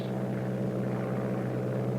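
Steady, even drone of a WWII-era propeller aircraft engine cruising at constant power in level flight, a continuous low hum without change.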